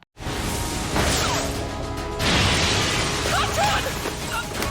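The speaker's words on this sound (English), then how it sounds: "he's destroying the gauntlets so they can't use them" Anime destruction effects as All Might wrecks the gauntlets: a continuous loud roar of crashing and bursting debris, with surging whooshes and impacts layered over one another.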